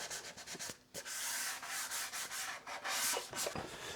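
Hand sanding the finish on a Flying V guitar body, a close, raspy back-and-forth scrubbing in quick uneven strokes with a brief pause near the start.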